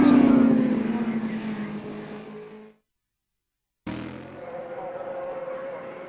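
Racing motorcycles scream past at about 190 mph on the Northwest 200 road course, a loud roaring whine that suddenly cuts to silence, then a second machine bursts in close and sustains its engine note.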